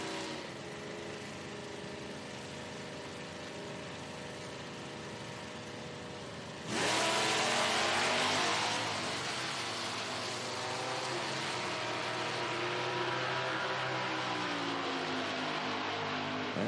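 A 2014 Mustang electric drag car in a Pro Am run at an IHRA event in Hebron, Ohio, hums at a distance, then a sudden loud broadband whoosh cuts in and holds as it launches down the strip.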